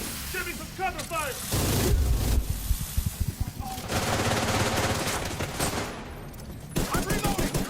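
Rapid gunfire bursts and sustained volleys crackle through a firefight in the video game Division 2. The shots are loud and dense, with short pauses between them, and voices talk over parts of the action.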